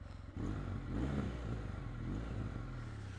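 A Kawasaki W800 motorcycle engine runs close by, idling with a throaty, pulsing rumble that swells slightly as it revs.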